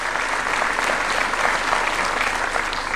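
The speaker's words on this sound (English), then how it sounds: "A round of applause." Steady audience applause at a youth employment event at Kenya's State House, a dense, even clapping from a large crowd that holds at full strength for three seconds.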